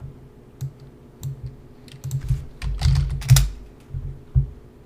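Typing on a computer keyboard while running commands in a terminal, with irregular bursts of clicky keystrokes up close, louder clusters in the middle, and no talk.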